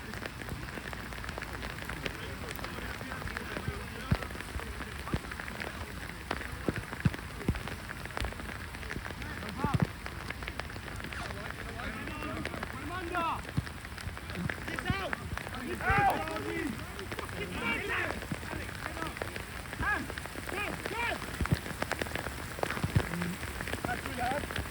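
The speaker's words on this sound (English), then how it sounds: "the rain's fucking strong" Heavy rain pours steadily during an outdoor ball game, a dense close hiss and patter of drops that runs throughout, with scattered voices and shouts from people nearby.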